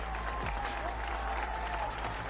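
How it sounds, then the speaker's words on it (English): An audience breaks into steady, fairly loud applause that holds evenly from start to finish, with no talking over it. "Round of applause to him."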